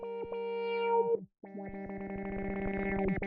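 Neon Silicon NeSi XTrem stereo tremolo plugin pulsing a synth tone, producing fast rhythmic choppy amplitude stutters, with a brief gap before a denser, rapidly chopped passage.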